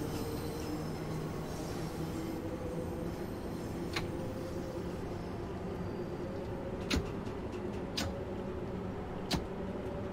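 A London Underground Bakerloo line tube train hums and whirs steadily at speed in the game Train Sim World 2, passing through Lambeth North station. A constant low drone runs throughout, with a few sharp clicks and rail knocks.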